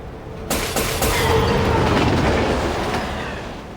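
A train rushing past on its tracks, a loud roaring rumble that swells quickly and then slowly fades, with no voices.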